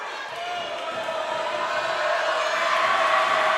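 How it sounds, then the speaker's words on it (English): High school basketball crowd at a Fredericksburg vs Boerne game roaring during free throws, a steady dense wash of cheering and whistling voices that swells slightly toward the end, loud and continuous. "they're really giving a lot of crowd noise here on these free throws on both"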